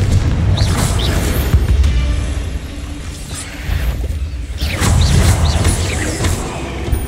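Confringo blast spells exploding in Hogwarts Legacy, a series of booming bursts with whooshing tails and clattering debris, loud and dense across the whole stretch with a brief lull midway.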